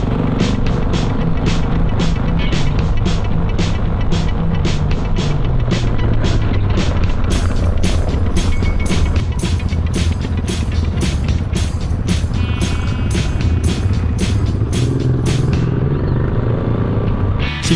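Off-road vehicle driving along a mountain track toward the Mont-Cenis lake, a loud continuous engine rumble with rhythmic clattering thumps and rattles from the rough surface throughout.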